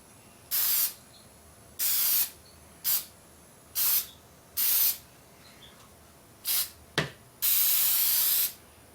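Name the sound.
spray can of lacquer spraying a 1930s radio chassis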